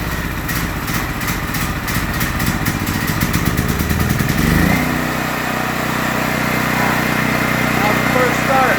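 A Pulsar 12K watt dual fuel generator engine being started with the choke fully on: a rapid rattling pull-start clatter that catches after about four seconds and settles into a steady, loud running drone.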